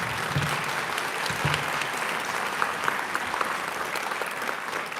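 An audience at a Women's History Month luncheon applauds in a steady, even wash of clapping for about five seconds, moderately close, with a sharp sound at the very end.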